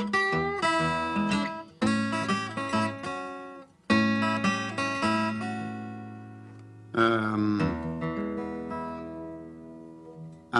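Fingerstyle acoustic guitar plays a blues tune with bent notes, picked phrases alternating with ringing chords in several bursts, close and clear, no voices.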